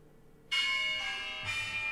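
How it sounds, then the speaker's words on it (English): Stock market opening bell ringing at the start of a trading session, a loud bright clang that strikes twice about a second apart, each tone ringing on over a quiet background. "There's the opening bell."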